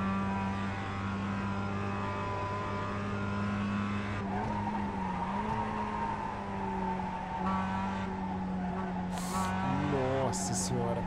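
A race car in the iRacing sim racing game runs with a steady, loud engine drone, and the tires skid and slide through corners, with some rising squeal near the end.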